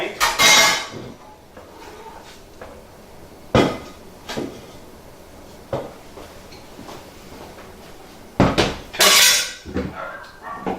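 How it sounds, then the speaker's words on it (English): Browned ground meat for lasagna tipped from a pan into a colander in a kitchen sink, with scattered metallic clanks, knocks and scraping, loudest in bursts at the start and near the end. "So I'm going to stick this in a strainer and a colander"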